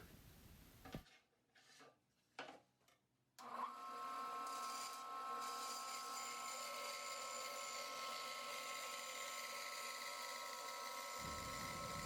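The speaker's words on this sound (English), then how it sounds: "So here I'm cutting this off with the bandsaw" A bandsaw cuts through wood after a few short scraping starts, then runs in a steady, whining drone for several seconds before the blade noise stops abruptly at the end.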